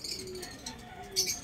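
Pigeons coo softly nearby, low murmuring calls in a brief stretch with faint background chatter and a small chirp near the end.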